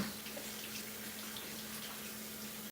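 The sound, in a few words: washing a paint brush under running water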